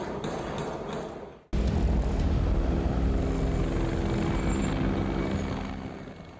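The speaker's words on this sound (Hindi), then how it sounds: "गरज के साथ आगे बढ़ता यह हेलीकॉप्टर रूसी सेना का Mi-24 है" A Russian Mi-24 military helicopter roars close and loud over the Hostomel area of Ukraine, a dense, steady engine and rotor rumble that cuts in suddenly and then fades slightly toward the end.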